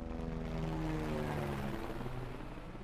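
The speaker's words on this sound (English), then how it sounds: "Helicopter inbound." A helicopter approaches in the video game Far Cry 6: a steady, loud rotor and engine drone with a low throbbing hum that holds level throughout, with no talk over it.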